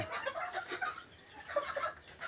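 Chickens cluck softly in a coop while pecking at feed through a tin barrier with their heads poked out, the short murmuring calls overlapping in an irregular, close, fairly quiet stream.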